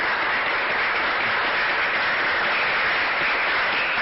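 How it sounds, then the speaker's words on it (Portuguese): Dense, steady applause from a crowd, a continuous wash of clapping at even loudness for a few seconds with no voices on top. "Uma salva de palmas para o Brasil."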